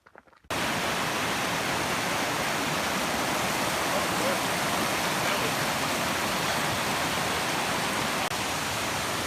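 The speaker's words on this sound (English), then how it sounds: "We found a pretty waterfall." A waterfall in a damp, moss-draped forest gives a steady, loud broadband roar that starts abruptly after half a second and continues unbroken to the end, with no voices.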